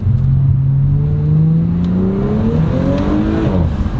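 A B9 Audi S4 fitted with a cold air intake accelerates hard in manual mode, its engine note climbing steadily in pitch through a loud, close, continuous pull with a rising whine.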